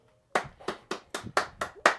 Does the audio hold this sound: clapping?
yes